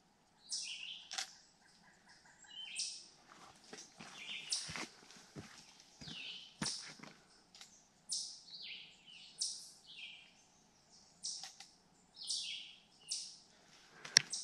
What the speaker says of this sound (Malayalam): കിളികളുടെ സൗണ്ട് കേട്ടോ.